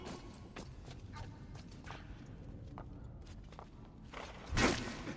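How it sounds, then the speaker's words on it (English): Horse hooves clop and scuff in the Assassin's Creed II video game, a quiet run of irregular footfalls ending in a sharper, louder clatter. "Oh, there are horses."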